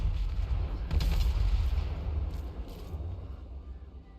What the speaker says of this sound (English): Grand Cannons of Cathay.